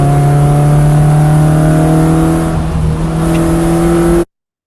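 A race car at speed on track, engine droning steadily and loud with a brief throttle lift mid-corner that dips the tone before power comes back on, heard from onboard.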